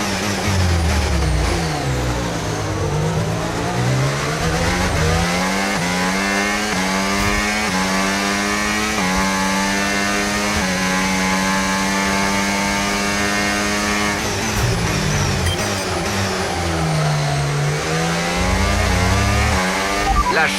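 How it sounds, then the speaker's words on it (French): A Formula 1 race car accelerating in the F1 video game Braking Point, a loud continuous engine whine that climbs through gear after gear with brief drops at the shifts, heard alone without speech. "Excellent départ, Hayden. À notre tour d'accélérer"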